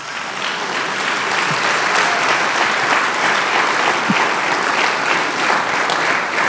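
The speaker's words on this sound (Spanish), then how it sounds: "Denle un aplauso a Dios por usted" A church congregation applauds during a Spanish-language sermon, a steady, dense wash of clapping from many hands that holds at full strength throughout, close and loud with no pause.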